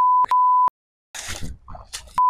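Censor bleep effect, a pure steady tone heard in a few short bursts, cut between by a brief gap and a snippet of talking.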